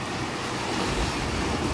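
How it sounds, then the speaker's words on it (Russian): Black Sea surf washing onto the shore at dawn, a steady close rush of breaking waves with some wind buffeting, heard alone. "Тишина полнейшая, только шум волн."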